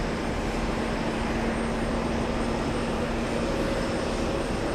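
A Delta Airlines A321neo jet airliner at JFK Airport gives off a steady, loud engine roar with a faint whine running through it, sustained and close throughout.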